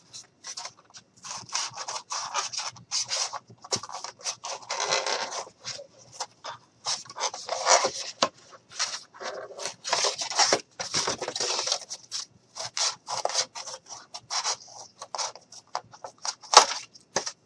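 Blue jean fabric being cut out with scissors, close crunching snips and rasping drags repeating in uneven bursts, with brief pauses between strokes and no voice present.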